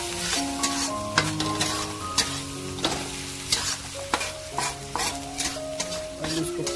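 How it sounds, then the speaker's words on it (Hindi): Parwal (pointed gourd) vegetable curry being stirred while it fries in a pan: continuous sizzling broken by repeated sharp clanks and scrapes of a utensil against the pan at an uneven pace, with no talking. "इसको फिर इसको मिक्स कर देंगे पूरा बढ़िया तरीके से।"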